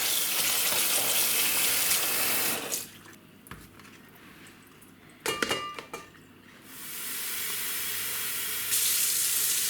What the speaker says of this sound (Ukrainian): додамо 2 літра холодної води